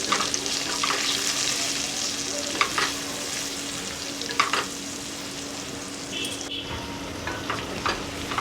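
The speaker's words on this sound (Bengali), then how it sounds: "এবার আমি এটা ভালোভাবে কষে নেব।" A spice paste with Kashmiri chili powder sizzles steadily in a pan for potato and pointed gourd curry, with scattered scraping strokes of a spatula stirring it at close range.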